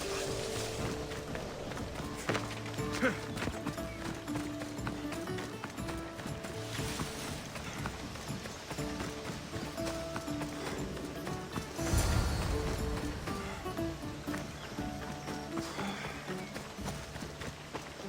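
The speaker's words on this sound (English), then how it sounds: "Now we'll race horses" Horses gallop in the video game Assassin's Creed Odyssey on PS5, a steady run of hoofbeats under layered game music and ambience, with a louder thud near the middle of the clip.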